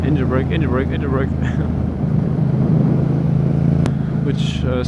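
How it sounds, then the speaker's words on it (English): A Yamaha MT-07 motorcycle engine braking, a steady low droning rumble with wind noise, while a rider talks over it throughout. "Engine brake, engine brake, engine brake."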